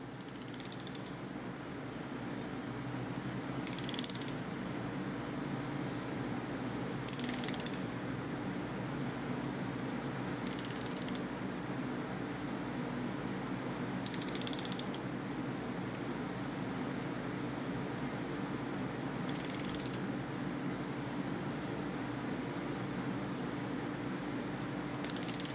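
Ratchet wrench turning cylinder head bolts on a Nissan KA24DE engine head build, giving short bursts of quiet clicking at regular intervals of about three seconds over a faint steady background hum.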